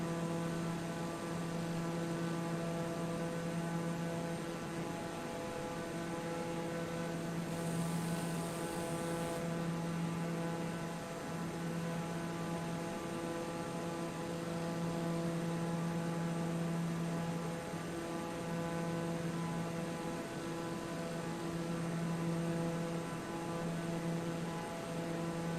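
Steady drone of a light aircraft engine in flight with the throttle eased back, its propeller hum holding an even pitch throughout, loud and close as if heard from inside the cabin.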